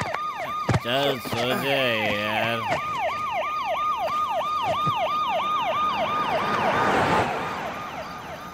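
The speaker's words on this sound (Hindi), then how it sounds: "अबे बैकग्राउंड म्यूजिक नहीं है, पुलिस की सायरन है" A police siren wails in a steady, repeating rise-and-fall cycle throughout and stays prominent. A short stretch of speech and a stronger, warbling tone come near the start.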